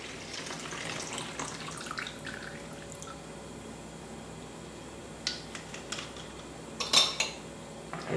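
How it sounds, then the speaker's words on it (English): A liter of red wine mixture is stirred in a container, soft sloshing and faint utensil clinks over a quiet background, ending with a few sharper knocks against the vessel. "And I'm just going to stir this very well."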